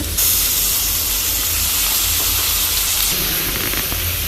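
Tomatoes frying in a pan with onions and curry leaves for bele dal, a loud continuous steamy sizzle and hiss that holds steady throughout, with a slight shift near the end.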